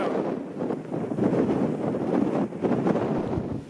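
Strong gusts on open Dartmoor moorland buffet the microphone with a continuous rough roar that surges and eases.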